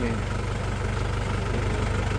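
A heavy tractor engine idles steadily nearby on a potato farm, a low, even diesel rumble with a regular chugging pulse and no voices.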